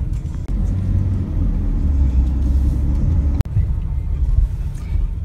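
Night traffic on a Santa Monica street in Los Angeles, with vehicles speeding between cars: a loud, continuous low engine rumble and road roar close by, broken by a sharp brief thump partway through.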